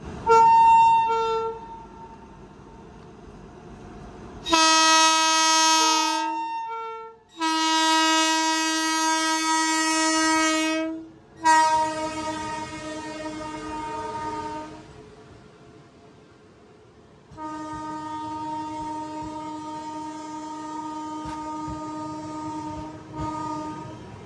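A Duronto Express locomotive hauls its coaches, sounding long, loud, sustained horn blasts with brief breaks between them. Rail rumble and running noise from close behind the engine continue underneath.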